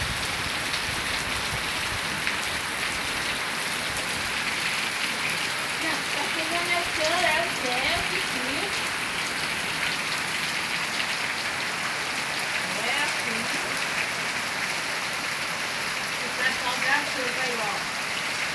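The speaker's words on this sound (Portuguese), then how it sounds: "Chuva caindo aqui, ó." Heavy rain pouring down in Teresina, Brazil, a dense, constant hiss of water on surfaces lasting throughout, with faint voices talking in the background now and then.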